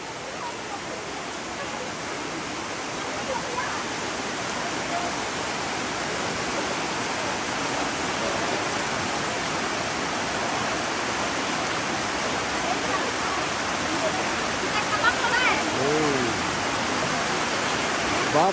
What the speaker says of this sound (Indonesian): Hujan deras guys.